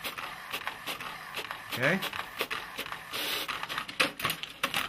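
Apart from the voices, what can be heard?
HP Business InkJet 1100 printer printing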